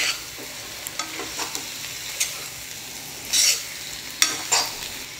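Egg poriyal, a Tamil scrambled egg stir-fry with spices, sautéing in a pan: steady sizzle with scattered scraping stirs and a couple of louder spatula bursts, close and alone without voices.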